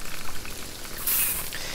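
Rain falling outdoors at a fishing spot, a steady soft patter of drops on surfaces, brief and continuous with no voices.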